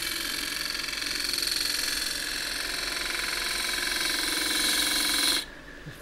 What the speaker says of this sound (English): Now I'll take a little shear cut. This is a 3/8 spindle gouge.